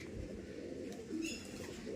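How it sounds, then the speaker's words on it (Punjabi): Pigeons coo softly and somewhat distantly in an early-morning farmyard by grape vines, a low continuous murmur with a faint brief chirp in the middle. "ਉਧਰ ਕਬੂਤਰ ਛੱਡਤੇ ਆ ਸਵੇਰੇ ਸਵੇਰੇ"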